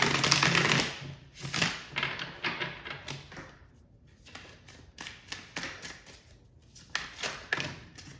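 A tarot card deck is shuffled by hand up close, with crisp riffling bursts and soft papery flutters repeating in uneven rhythm, and nobody speaking.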